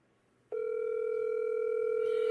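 A telephone call rings out after a brief quiet: one steady electronic tone starts abruptly and holds evenly, loud and close on the line, with no one speaking.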